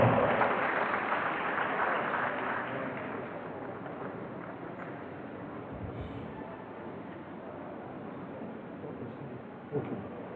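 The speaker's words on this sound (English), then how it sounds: "Can we give her a round of applause?" A dense, steady round of applause from an audience at a University of Benin Faculty of Pharmacy oath-taking and induction ceremony, loud at first and slowly tapering off over about ten seconds, with no voices on top.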